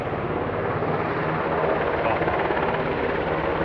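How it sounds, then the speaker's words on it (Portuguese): A 1960 H-21D rescue helicopter at an air museum in Hamamatsu, Japan, heard as a steady, even rotor and engine drone, moderately loud and unchanging, with a brief spoken word. "Helicóptero."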